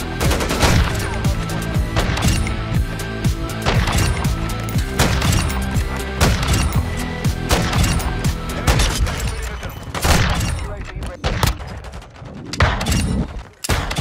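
Dense, continuous gunfire from a first-person shooter video game, rapid automatic bursts and thumping shots packed together at steady loudness, with a brief lull near the end before firing resumes.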